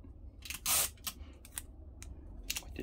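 Cellophane tape being pulled and torn to fix sandpaper in place for hand-sanding wooden pieces, heard as a loud rasping tape pull followed by several short crisp ticks and tears, close up with no talking.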